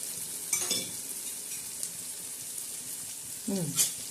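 A green chili and onion paste fries and is stirred in a pan, with a continuous close sizzle and two brief louder scraping stirs.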